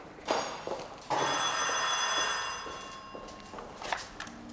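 An old-style telephone bell rings in an office in a 1975 German television drama, short bursts at first and then a long sustained ring, fairly close and with no talk over it.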